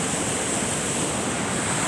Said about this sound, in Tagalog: Lakas kasi ng ulan kanina. Ayan, lumaki na naman yung ilog.